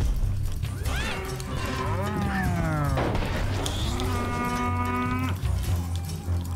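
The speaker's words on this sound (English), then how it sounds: "it sounds like there was a cow on the pitch" In the Mario Strikers Charged football game, a cow moos loudly in several drawn-out, rising and falling calls over crowd and game noise on the pitch.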